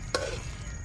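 A spoon stirs saltfish rundown seasoned with black pepper in a cooking pot, giving one sharp close scrape against the pot, followed by a low, steady simmering hiss with no voices.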